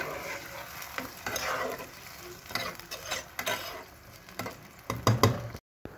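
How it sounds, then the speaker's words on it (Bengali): Fish curry masala stirred in a pan after water goes in, irregular spoon scrapes and clacks over a soft wet sizzle, close and moderately loud, ending in a brief cutout. "এখন জল দিয়ে দেব, দিয়ে একটু নেড়ে চেড়ে দিতেছি"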